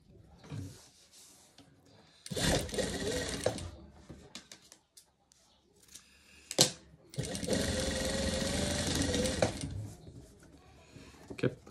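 A sewing machine stitches around fabric scraps to make a quick rug, running in two long steady bursts separated by a short pause, close and loud, with faint talk and handling in the quieter stretches.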